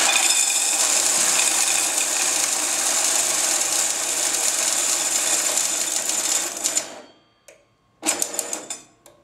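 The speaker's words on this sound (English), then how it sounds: "the machine will quickly and effectively count the coin through into a cloth bag in this instance" A CTCoin Blackbird single-denomination coin counter whirs loudly and steadily as 1 pence coins run through into a cloth bag, then stops abruptly, followed by a brief restart burst and wind-down.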